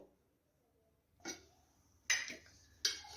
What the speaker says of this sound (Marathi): कढई ठेवलेली आहे